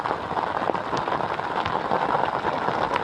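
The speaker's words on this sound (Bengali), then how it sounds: "বৃষ্টি প্রচণ্ড জোরে হচ্ছে আর তার সাথে নদীতে ঢেউ চলছে" Hard rain falls on a river during net fishing, making a continuous close hiss scattered with sharp drop impacts and no talk.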